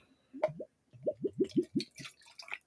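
Tasmanian gin glugs from a small 200 ml bottle, a quick pair of gurgles and then a close, rhythmic run of hollow glugs, each rising in pitch, with a faint splash at the end.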